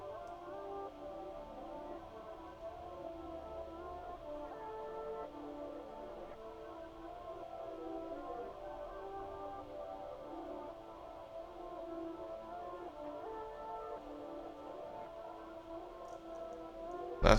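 A dark guitar sample, slowed to half time and run through vintage chorus, EQ and sidechain, drifts in a quiet, murky, wavering loop of sustained notes that carries on at low volume with no voices.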